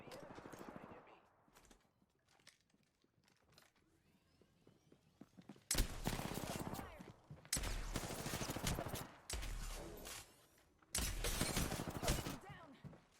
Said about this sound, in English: The enemy's shooting at me.